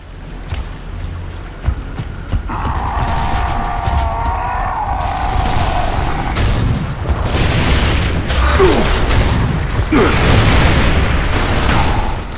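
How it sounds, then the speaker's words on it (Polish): Grenade launcher shots and booming explosions in the video game Gears of War Ultimate Edition rumble over continuous engine-like noise, with a couple of sharp blasts near the end. "wyładować dwa strzały z granatnika, nie trafić jeszcze nikogo"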